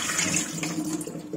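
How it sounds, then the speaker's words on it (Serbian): Water pours off freshly soaked strawberries into a sink, a steady close splashing rush that runs unbroken for the whole moment with no voices. "ja ću prvu vodu baciti, stavit ću drugu vodu"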